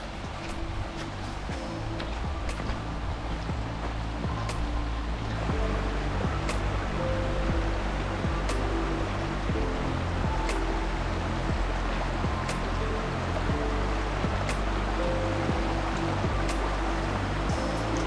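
Continuous rushing water from a nearby stream beside a sea cave, a broad steady wash with occasional sharp clicks, no voices.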